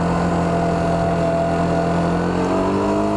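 A motorcycle engine, running Motul 300V oil and Bosch FC2 plugs, holds a loud, steady high-revving drone close by, with harmonics drifting slightly as the revs shift.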